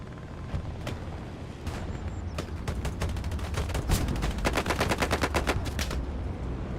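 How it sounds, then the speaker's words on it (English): Machine gun fire in the World War II shooter Hell Let Loose, a competitive match on the Driel map, with rapid bursts of sharp shots growing denser and louder toward the end over a steady rumble of battle noise. "This is his MG shots."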